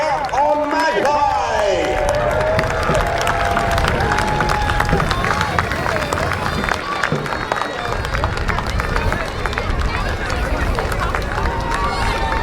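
Dense clapping and cheering from the audience at a jousting event at Pendennis Castle fill the air loudly and continuously, with crowd chatter and a voice carrying over it.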